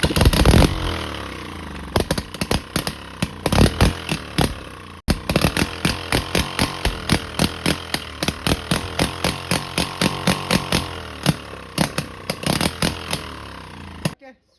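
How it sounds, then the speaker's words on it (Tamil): A bike engine started and running rough, firing in loud uneven bursts with rapid clattering pulses that speed up and slow down, close by, cutting out briefly before sputtering on and stopping at the end. "இன்ஜின் வந்து ஒரு ஸ்டார்ட் பண்ணிட்டோம்"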